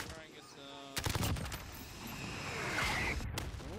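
Suppressing gunfire in an online Xbox multiplayer shooter game: bursts of automatic fire crack out loud and close, with a sharp volley about a second in and more shots later over a steady background roar of battle.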